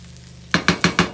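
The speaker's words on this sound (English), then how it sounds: "giving it a quick stir." Four quick scraping strokes of a utensil stirring egg fried rice with pak choi in a pan, close and distinct, each stroke an evenly spaced swish after a near-silent moment, with no talking.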